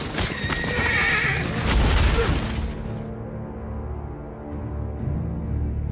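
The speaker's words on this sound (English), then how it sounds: "That's 40 horses charging full speed at Kit Harington." In a staged cavalry charge of about 40 horses at full speed for a battle scene, horses whinny loudly and close over a rumbling mass of galloping hooves, which fades to a low steady drone.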